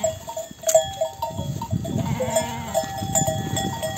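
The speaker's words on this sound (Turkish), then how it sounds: "Koyunları şu karşıdan getirdim." A flock of sheep on a high mountain summer pasture makes a dense, continuous, close bleating chorus, with bell tones ringing steadily through it.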